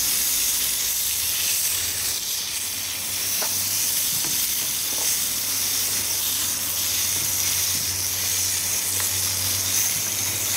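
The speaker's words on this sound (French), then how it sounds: "je vais mettre du beurre, badigeonner ma viande avec le beurre et on va laisser le beurre" Butter melting and sizzling over steak on Grill Grates, a loud continuous hiss and crackle that holds steady from start to finish, with a few faint clicks and no talking.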